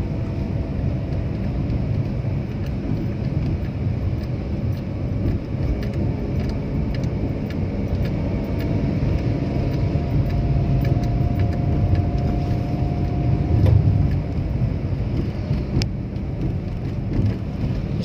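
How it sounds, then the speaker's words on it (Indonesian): Busy morning traffic on a concrete road, a dense steady wash of car engines and tire noise passing nearby, with occasional louder swells as vehicles go by. "Kalau ini pagi hari ini macet ramai, teman-teman."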